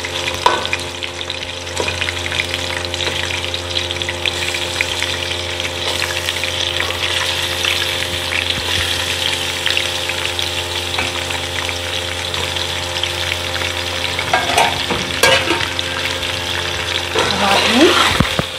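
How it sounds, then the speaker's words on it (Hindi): Chicken pieces frying with browned onions in a pan produce a loud, dense, unbroken sizzle heard up close, with a few scraping stirs near the end and no speech. "अब मैं एक करके इसमें चिकन के पीस ऐड कर रही हूँ। उसको मैंने प्याज के साथ ही फ्राई करना है।"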